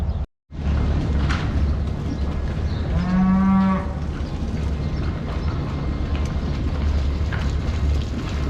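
Dry dairy cows on a farm moo as they are moved back to the dry cow unit, one clear, loud low moo standing out over a steady rumble of livestock and yard noise.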